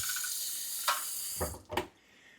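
Tap water runs steadily from a faucet into a container for homemade bread dough, a continuous hiss with a couple of brief splashes or shifts near the end before it stops.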